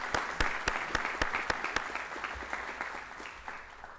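An audience at a school district board of trustees meeting claps, with loud distinct individual claps standing out over a softer bed of applause that gradually tapers.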